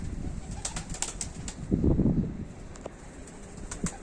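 Pigeons from a home-bred loft take off, with a short burst of close wing flapping in the middle of a steady outdoor background.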